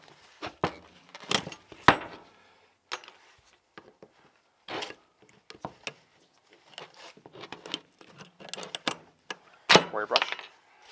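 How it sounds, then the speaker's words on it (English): Metal brake pad shims being pried off a Honda Accord's brake caliper, giving scattered sharp metallic clinks and rattles in irregular bursts, close up with quiet gaps between. "We're going to rip off the shims."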